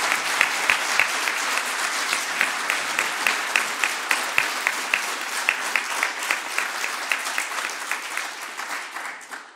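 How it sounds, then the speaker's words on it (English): A conference audience at a security talk on robbing banks claps steadily and loudly for about ten seconds, a dense even wash of hands with slight rhythmic pulsing, tapering at the very end. "Or applause. It doesn't matter."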